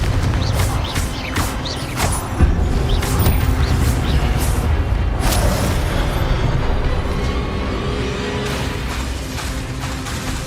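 Repeated Confringo fire spell blasts in Hogwarts Legacy on PC, a dense run of booming explosive bursts and crackling impacts, loud and continuous over a rumbling low bed of game noise.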